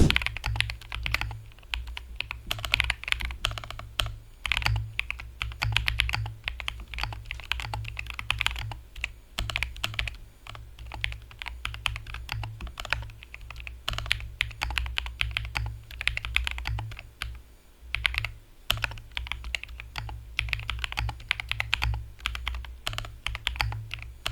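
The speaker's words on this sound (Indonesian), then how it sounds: "Tapi kalau dipakai buat ngetik, ini keyboard sih boleh juga suaranya." Steady typing on an Epomaker TH40, a small 40% mechanical keyboard, with dense, continuous key clacks in quick irregular bursts, close and fairly loud over a low background hum, with no talking.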